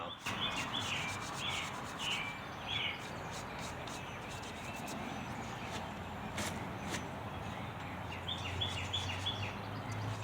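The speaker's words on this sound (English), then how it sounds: "Just going to take this piece of mesh Sandcloth and just knock the debris off of there." Steady, close scrubbing of mesh sandcloth rubbing debris off a Fulton trailer winch continues throughout, with birds chirping faintly outdoors in the background.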